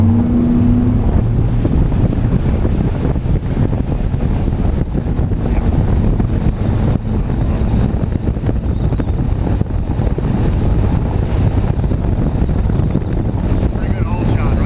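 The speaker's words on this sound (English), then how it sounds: "I'm impressed with the new 4-stroke." A boat fitted with a new 2018 Mercury 250 Pro XS four-stroke outboard accelerates hard, its engine roaring loud and continuous under rushing wind and water noise, with a voice speaking over it.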